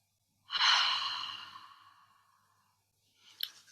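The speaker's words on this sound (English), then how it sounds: "Breathe out. Breathe in. Breathe out." A single deep, breathy exhale during a guided breathing exercise swells up loud and trails off slowly over a couple of seconds, followed by a short, quieter intake of breath.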